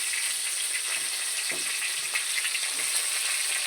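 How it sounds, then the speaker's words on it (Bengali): Pre-fried potatoes sizzling in a hot kadai during cooking of a soybean and paneer dish, a steady close crackle with soft stirring scrapes and no talking. "ভেজে রাখা আলু কটা দিয়ে দেবো"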